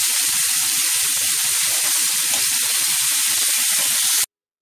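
Fish pieces frying in a pan for a Konkani kalchora fish curry give a steady, close, dense sizzle with crackling spatter. It runs evenly and loud, then cuts off abruptly near the end.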